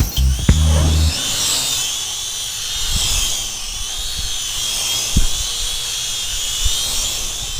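A Song Yang Toys X33C folding quadcopter drone flies with a steady high-pitched whine of its small propellers. A few clicks and a short motor burst come first, then the buzz holds loud and close throughout.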